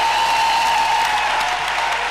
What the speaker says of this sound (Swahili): Pigie mkono ya shangwe kwa Yesu.